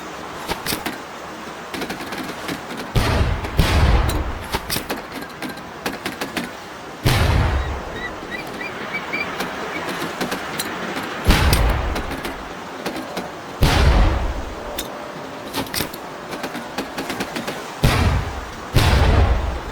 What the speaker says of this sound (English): You think I would trust you with a real grenade? No! Pull the pin and let them fly.